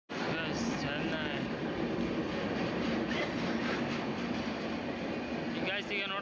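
A Chennai Superfast express train, running from Mumbai to Chennai, passes through a nearly empty railway station with a loud, steady rumble of wagons that holds throughout, faint clatter mixed in.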